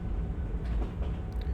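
A train on Umbara rumbles steadily along, a low continuous clatter and hum of the rolling compartment, with faint higher squeals near the end.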